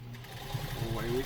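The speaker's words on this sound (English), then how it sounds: "So it looks like we're ready to sew, so we'll give it a little gas" A sewing machine starting up, its motor hum quickly giving way to a fast, even run of stitching pulses, fairly quiet and close.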